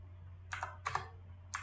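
Keys clicking on a computer keyboard while typing a document command: three short, distinct bursts of keystrokes spaced apart, close and fairly quiet against a low steady hum.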